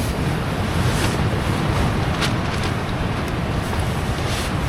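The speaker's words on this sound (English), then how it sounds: "that wind has really come in now" Strong, steady wind roars and buffets the microphone at a bushcraft camp during Storm David, a loud continuous rush with gusting surges and no talk.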